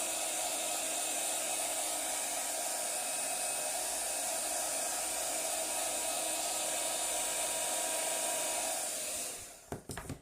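A hair dryer blows steadily and loud on a card with a marbled ink background for about nine seconds, then shuts off and is followed by a few faint handling clicks.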